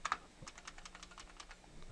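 Fast, close keystrokes rattle on a computer keyboard in quick, uneven bursts during setup of a remote desktop server on Ubuntu, soft and alone with no voices.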